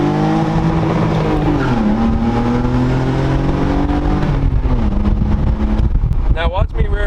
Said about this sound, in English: So this is a 99 BMW Z3